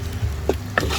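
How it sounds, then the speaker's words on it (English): Hungarian paprikash sizzling hot in a pot over a campfire outdoors, a steady close fry hiss with a couple of brief stirring scrapes, no voices. "So you can see all that's still sizzling hot, but there's nothing burning in there."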